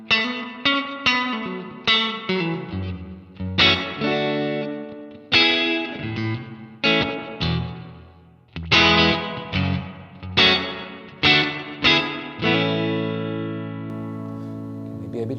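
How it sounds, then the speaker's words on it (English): An electric guitar runs through a Tonex One Spring 4 spring reverb, playing a sequence of plucked notes and chords, each leaving a splashy, lingering tail, ending on a long sustained chord that rings out alone. "that's a new reverb that's called Spring 4"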